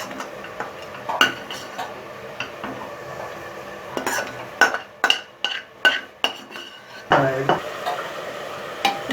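Fried chicken pieces are stirred into a sizzling masala in a pan for a Mughlai murgh dish, with scraping and clinking spoon strokes over steady frying hiss, several sharp knocks against the pan toward the end.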